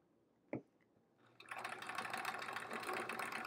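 Sewing machine free-motion quilting tiny squiggles on a quilt-as-you-go quilt block: a sharp click, then a steady, fairly close mechanical whir of rapid stitching that runs on evenly to the end.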